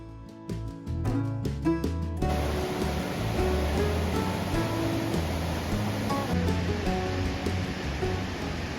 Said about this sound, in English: I can hear water falling. So technically that's a waterfall, isn't it?